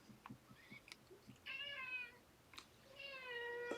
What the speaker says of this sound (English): Uh-oh, my cat's locked in. I gotta let my cat out.